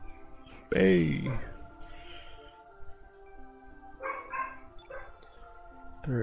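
A short, high dog yelp or bark rings out once in a Chrono Cross boss battle against the Earth Dragon, loud over ongoing game music and effects.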